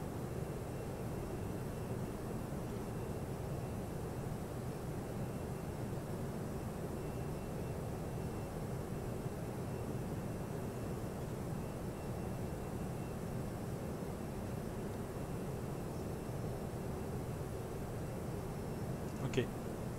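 An Airbus A318 engine hums steadily in the Prepar3D flight simulator on a flight from Ajaccio to Paris, a constant broadband drone with no change for the whole stretch.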